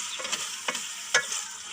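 Meat frying with yogurt in a pan, a soft continuous sizzle broken by a few sharp scraping strokes of stirring, close and fairly quiet with no voices.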